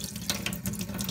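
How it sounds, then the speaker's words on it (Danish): A kitchen water tap runs steadily, drawing lukewarm water for yeast dough, a close, continuous splashing hiss without speech. "Og vi starter med at tænde for vandet."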